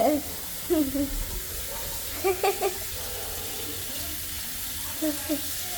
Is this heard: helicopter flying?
no